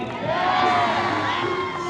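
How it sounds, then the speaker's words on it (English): A crowd at a State Fair of Texas show cheers and whoops loudly in one steady burst, with a few high shouts rising over the roar. "Good cheering."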